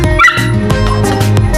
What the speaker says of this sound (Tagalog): Doon yung mga aso.